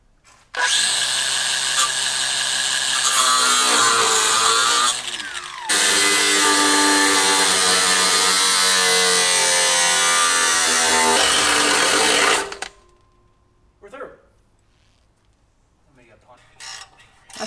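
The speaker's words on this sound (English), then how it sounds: "So, it's time to use an angle grinder." An angle grinder cuts through the cat-back exhaust on a Subaru WRX, a loud, steady high-pitched whine that runs for about twelve seconds with a brief dip midway, then stops, leaving quiet shuffling and voices.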